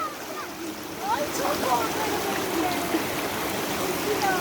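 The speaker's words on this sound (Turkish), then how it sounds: "Dere götürür seni." A flowing stream, its water rushing and burbling steadily nearby, a constant broad wash with faint whistling tones drifting above it.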